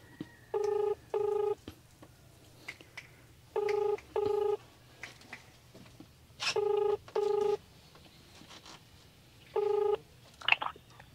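A telephone keypad is dialed to call a relative, giving clear DTMF tones in short pairs and single beeps spread across the stretch, with quiet room noise between them.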